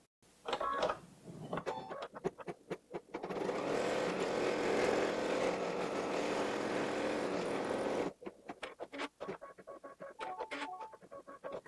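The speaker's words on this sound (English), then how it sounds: "So let's go to the sewing machine and we'll sew that first stitch." An embroidery sewing machine runs in a steady, fast stitching whir for several seconds, framed by short clicks and starts before and after.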